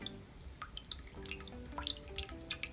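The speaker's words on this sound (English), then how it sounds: "I'm just rinsing the palette knife in my dirty water." A palette knife is rinsed in a pot of dirty painting water, giving small irregular drips, splashes and light clinks, quiet and close, with no voices.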